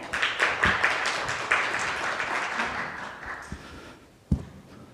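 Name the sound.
audience applause welcoming a speaker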